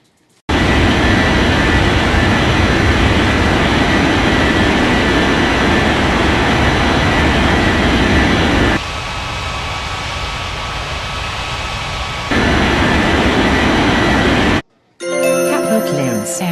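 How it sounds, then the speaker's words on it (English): Jet airliner takeoff roar in the Unmatched Air Traffic Control game: a loud, steady broadband engine rumble that sustains for about fourteen seconds, dips briefly in the middle and swells again before cutting off abruptly. "Azza 82907, cleared for takeoff runway 35"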